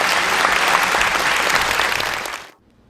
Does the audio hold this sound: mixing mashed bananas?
no